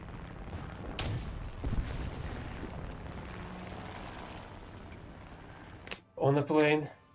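Cannon fire from an aircraft in War Thunder comes as a few sharp booming shots over a steady engine drone, followed by a short burst of someone talking.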